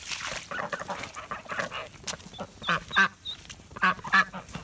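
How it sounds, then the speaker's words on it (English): Ducks and geese call together in a noisy farmyard flock, a jumble of repeated quacks and honks close by, rising in short loud bursts. "The duck and geese and peacock brigade."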